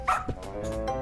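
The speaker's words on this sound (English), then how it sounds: "The dog is responding to something." A dog in the video game Lost Judgment barks a couple of times in quick yips, close and fairly loud, with a whimpering edge and no talk over it.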